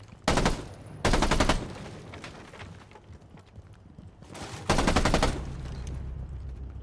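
Rainbow Six Siege gun firing in two loud full-auto bursts separated by a quiet gap, close and punchy, with a low game hum between.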